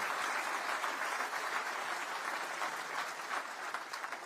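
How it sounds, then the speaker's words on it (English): Audience applause at a political speech in a venue in Scotland, a steady, dense clapping from a large crowd that holds at an even level throughout without voices. "Another round of applause."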